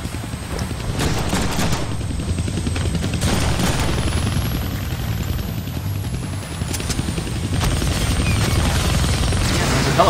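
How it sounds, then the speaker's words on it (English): Helicopter rotor thrum mixed with bursts of gunfire in the Deadpool video game, a steady dense roar with repeated sharp shots throughout. "Yeah, there's a helicopter up there."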